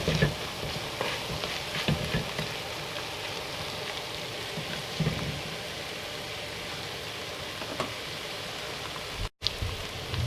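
Curry powder fries in hot oil in a pot for a steady, dense sizzle with a continuous crackling hiss, close and fairly loud, with a few scraping stirs.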